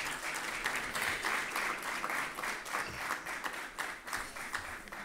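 An audience at a French-language business conference on market research and economic intelligence applauds a man introduced to the stage, with steady, full clapping from many hands throughout.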